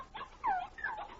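A black and white puppy outdoors on a trail behind bushes whimpers in two short, high, wavering whines, close and moderately loud with no talk.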